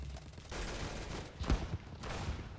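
Gunfire in the Roblox shooter game Arsenal: a few sharp shots cluster near the middle, loud against a dense, busy game background, with a smaller burst following a moment later.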